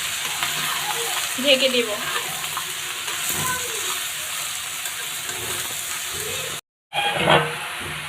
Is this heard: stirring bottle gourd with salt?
yes